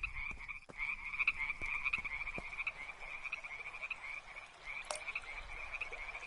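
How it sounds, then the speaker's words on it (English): Video game Deiland frogs croak nonstop in a dense chorus of steady, overlapping calls, with occasional soft clicks and taps underneath and no talking. "It's so full of frogs that it doesn't not stop."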